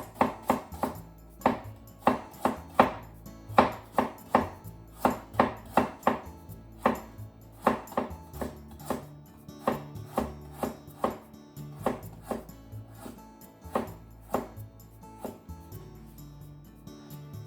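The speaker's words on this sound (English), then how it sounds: "Make very thin diagonal slices." Knife cutting very thin diagonal slices on a cutting board for a harusame glass noodle salad, a close, steady run of crisp taps at an even rhythm that slows slightly toward the end.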